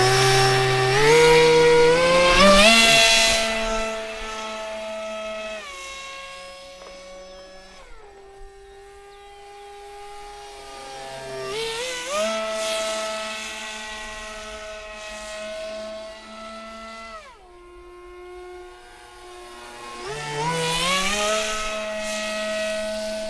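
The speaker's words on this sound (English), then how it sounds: "I've got my 3D printed F-22 mid-mounted pusher." A 3D printed F-22 mid-mounted pusher RC plane flies in a park, its electric motor whining in rising and falling tones as the throttle changes and it passes by, loud at moments and fading between passes.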